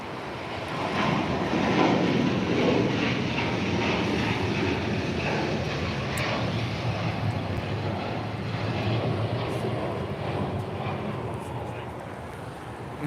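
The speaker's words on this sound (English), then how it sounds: "That was Qatar Airways Flight 740 departing to Doha on the A350 1000." A Qatar Airways Airbus A350-1000 jet departing for Doha, a steady broadband engine roar that swells early and holds for several seconds before slowly easing off.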